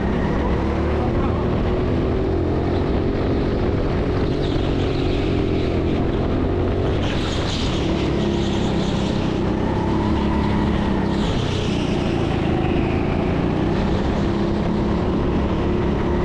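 A go-kart engine runs on the indoor track at TeamSport Sheffield as a steady, buzzing drone heard from on board, with small rises and falls in pitch. Someone talks over it throughout.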